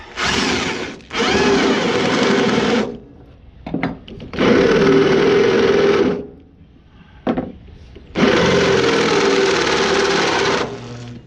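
An electric drill with a sharp bit bores into a trailer guide pole in three long, loud bursts of high whine, separated by short pauses and brief stuttering blips.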